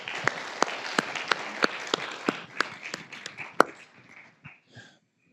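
An audience claps for a speaker coming up at an investment panel event, a scattered, moderately close burst of applause with distinct sharp claps that thins out and fades over a few seconds.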